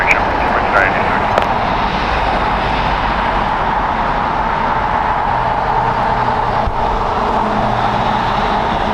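Boeing 737 jet airliner taxiing at LAX, a steady broad engine roar held at constant level with a faint higher whine, with a voice talking over it.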